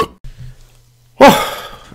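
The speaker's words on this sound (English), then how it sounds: "I'm just going to cut this so I can burp." A man's burp, one loud, rough blast in the second half, rising abruptly after a brief bit of low rumble and near-quiet.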